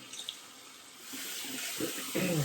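Water runs from a tap as a beard straightener is rinsed beneath it, a soft rushing stream that swells louder and splashes more heavily toward the end, close by with no talking.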